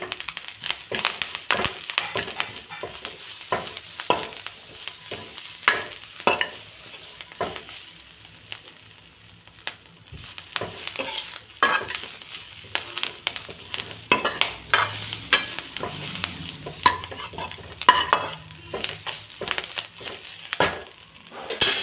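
Grated coconut and coriander masala stirred and fried in a pan, with repeated crisp scraping and clacking strokes of the spoon over a low sizzle, close by and irregular in rhythm.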